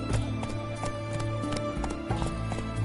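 Horse hooves clip-clop at a gallop in The Witcher 3 as Geralt rides his horse Roach, a steady rapid rhythm layered over loud game music and ambience, with a brief whinny-like accent.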